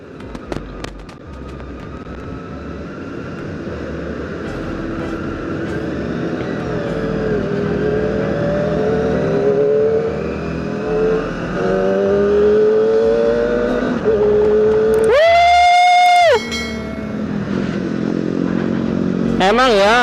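A Kawasaki ZX25RR four-cylinder sport motorcycle engine revs on a test ride, its high-pitched whine climbing steadily over many seconds. Near the end it gives a sharp, screaming rev burst, loud and close, with a voice faintly present.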